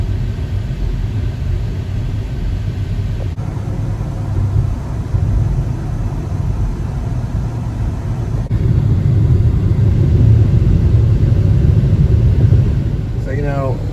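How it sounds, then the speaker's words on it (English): Steady road traffic rumbles past on a Saturday near a Discount Tire, continuous engine and tire noise swelling louder toward the end, heard from inside a vehicle with no talk. "Quite a bit of traffic."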